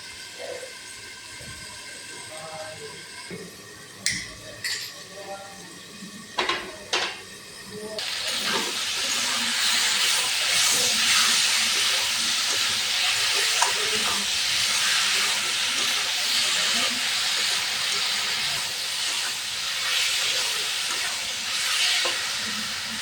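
Pangas fish curry with potato and tomato sautéing in a pan: a loud, continuous sizzling hiss swells up partway through, preceded by a few knocks and clinks against quieter cooking noise.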